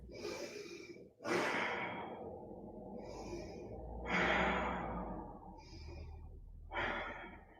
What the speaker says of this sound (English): Three deep breaths.